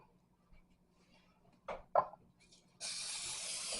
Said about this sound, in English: And then I'm going to spray this with spray butter.